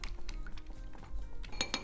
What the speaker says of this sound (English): Now I'm just gonna give that a quick stir with my marinade brush here.